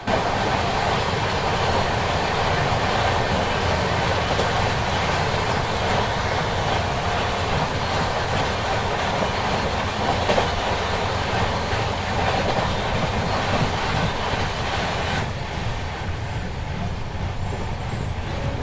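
Duronto Express train running at speed while overtaking the Haridwar Bandra Express, a constant loud rumble with rattling wheels and clickety-clack heard from inside, easing slightly near the end.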